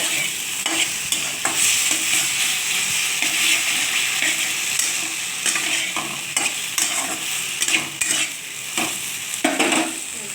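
Whole okra pieces sizzling and frying steadily in a pan with turmeric, a continuous bright crackle broken by scattered pops and the scrape of stirring.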